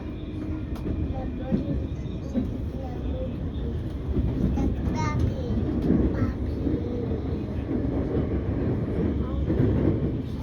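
A Siemens Nexas suburban train runs from Melbourne Central toward Essendon, giving a steady, close interior rumble and rattle of wheels on track that holds for the whole stretch, with faint voices murmuring in the carriage.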